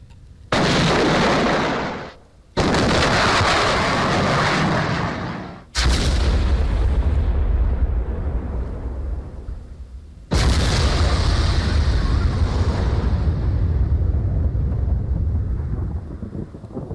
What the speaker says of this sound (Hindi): टैंक पर ड्रोन के जरिए विस्फोटक गिराया गया और टैंक को उड़ा दिया गया है।